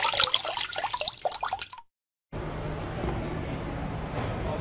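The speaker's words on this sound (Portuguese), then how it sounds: "Pode derramar esse óleo aí." Oil from a diesel 2011 Toyota Hilux 2.5 part is poured out in a dripping, splashing stream, with a brief dropout before the steady liquid rush continues.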